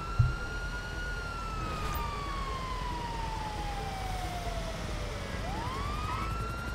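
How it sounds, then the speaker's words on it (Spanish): A police car siren in the video game GTA 5 wails in one long falling sweep and then starts rising again, loud and steady over a continuous engine rumble. "Y ahora sí prendemos la sirena"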